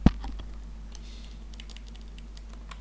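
Computer keyboard typing, a faint scattering of irregular light key clicks over a low steady hum, with one sharper knock at the start.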